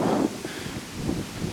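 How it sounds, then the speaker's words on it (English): Strong outdoor wind gusts with gusts up to 50 miles an hour, a loud broadband roar that swells and buffets close to the microphone, with no voices. "Listen to that wind though."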